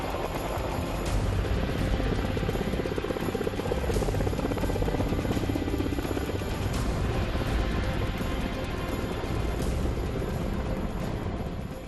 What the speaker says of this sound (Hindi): आसमान में अपाचे हेलीकॉप्टर गरज रहा था